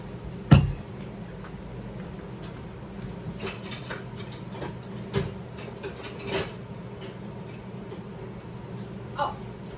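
A cast iron skillet handled in a home kitchen gives one loud close clunk near the start, then scattered light clinks and taps over a low background hum.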